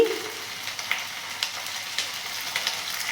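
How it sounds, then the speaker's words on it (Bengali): Pumpkin and potato pieces sizzle in a hot pan with ginger paste, a steady close frying hiss with faint stirring scrapes and no talking. "এবারে যে কুমড়ো আর আলুগুলো কেটে রেখেছি সেগুলো দিয়ে দিলাম দিয়ে এটাকে ভালো করে আমি ভাজবো"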